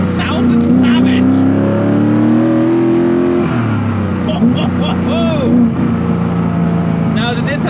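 Koenigsegg CCX supercar with a one-off exhaust and unique muffler, its engine revving loudly and continuously, pitch climbing then dropping and rising again, close to the car with some talk mixed in.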